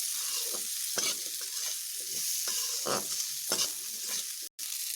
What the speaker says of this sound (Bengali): এইভাবে আলুগুলোকে একটু ভেজে নেব